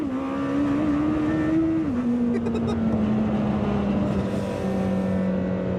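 A Lamborghini Temerario sports car with all-wheel drive is driven hard, its engine holding a loud, steady droning note that rises slightly, then settles lower as it pulls on.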